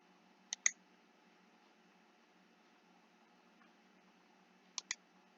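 Two sharp computer mouse clicks, one pair near the start and another a few seconds later, faint and close against a quiet, near-silent background.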